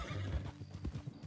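Horse in the Red Dead Redemption 2 video game clip-clopping along with hooves thudding in a quick rhythm, close and fairly quiet, with a brief whinny mixed in.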